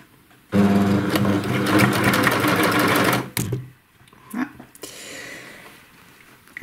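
Sewing machine running in a long steady burst, stitching an outer-curve binding onto shorts, loud and close, then stopping and briefly starting again with short whirs and handling noise.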